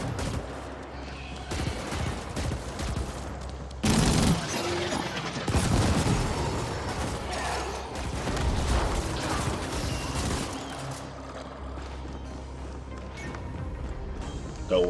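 Weapon fire in The Ascent, a sci-fi action video game: dense bursts of shots with clustered heavy blasts in the middle, layered over a constant game soundtrack and ambience, no voices.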